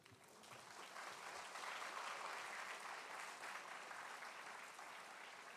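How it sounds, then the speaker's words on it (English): Steady, dense applause from a large audience at a live endowment lecture fills the room continuously, many hands clapping at even loudness throughout. "The applause should be even more intense"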